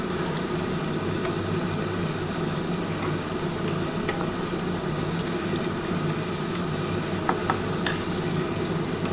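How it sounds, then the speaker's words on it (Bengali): Bengali egg chops (dimer devil) deep-fry in oil with a dense, even sizzle that stays loud and close throughout. A few faint clicks sit under the continuous bubbling. "একটু লাল করে কিন্তু ভাজতে হবে, তাহলে কিন্তু এই ডিমের চপটা খেতে ভালো লাগবে বন্ধুরা"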